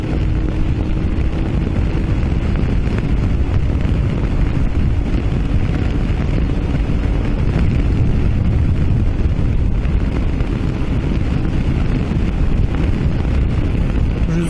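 Strong wind roars and buffets the microphone nonstop during a Mondial Rx3i Evo motorcycle ride between Fethiye and Dalaman, a dense, loud rushing noise that never lets up.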